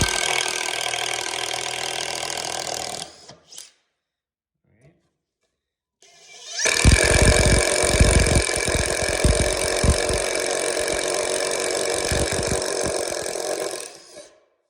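A Klein Tools impact driver bores a hole into a wooden header board, a loud sustained whir with rapid hammering bursts near the start, following a brief burst and a quiet pause.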